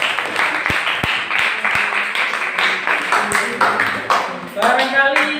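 Students in a classroom clap for a group, a burst of quick, slightly uneven applause over several seconds, close and fairly loud, with a voice speaking near the end.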